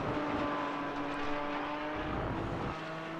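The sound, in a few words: GT4 car engine revs spiking over curb, sim racing video game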